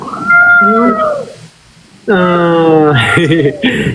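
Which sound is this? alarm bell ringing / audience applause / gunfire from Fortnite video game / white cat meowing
white cat meowing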